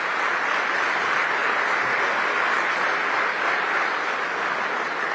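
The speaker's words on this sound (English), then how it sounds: "Let's give him a round of applause." An audience at a Homeland Security speech event claps in sustained, dense applause that stays even and full throughout, with no voices rising above it.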